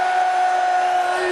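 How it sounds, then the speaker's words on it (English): A loud darts crowd at the World Series of Darts Finals, Wright against Price, roars and chants in a sustained, tonal wall of voices that fills the arena. "Very vocal in the audience this evening. It's getting louder as the night progresses."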